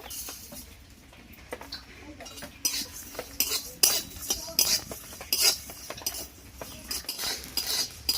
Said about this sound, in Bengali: আর আমি কড়াটা বসিয়ে দিলাম, আর কড়ার মধ্যে এই সমস্ত মশলাগুলোকে আমি ভেজে নেব।